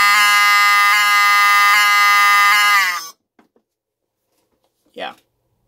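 A Wheelock 7002T-12 fire alarm horn strobe powered at 12 volts blares a loud, continuous harsh horn tone for about three seconds, with slight pulsing, then cuts off; a brief voice follows afterward.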